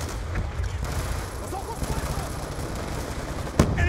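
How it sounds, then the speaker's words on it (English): Gunfire in the Call of Duty: Black Ops 2 game, a dense, continuous wash of battle noise with shots throughout and one sharp, loud crack near the end. "Taking sniper fire from the catwalk!"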